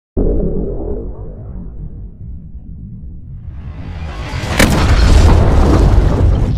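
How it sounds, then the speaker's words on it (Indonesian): A deep rumbling explosion of a submarine hit by a torpedo swells into a loud, sustained roar of debris and turbulence, heavy low boom with crackling noise. "Kapal selam musuh hasil hancur lebur dihantam torpedo oleh kapal selam Arkansas"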